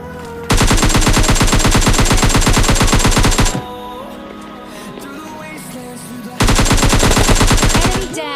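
Automatic gunfire in the PUBG Lite video game: two long, loud, rapid bursts with a quieter pause between them.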